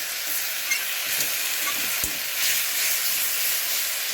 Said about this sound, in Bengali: মশলাটাকে খুব সুন্দর করতে হবে কষা যত ভালো হবে রান্না তত সুন্দর হবে